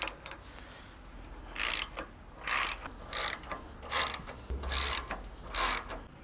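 A ratchet wrench loosening factory 15 mm bolts on a Ford Bronco, delivering several separate bursts of rapid clicking with short pauses between them, close and clear with no talking.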